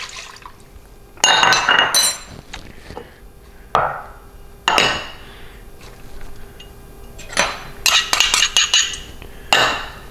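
Salad dressing ingredients such as mustard, pepper, salt and honey going into a glass bowl, heard as several separate bursts of clinking glass and liquid splashing and pouring, close by with quiet gaps between them.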